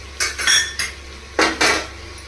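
Metal spoon scraping and clinking against a kadai while stirring chicken biryani, a few short clanking bursts in quick succession, close and fairly loud with no talking.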